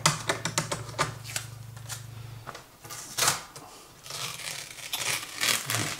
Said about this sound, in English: Try to get this tape off.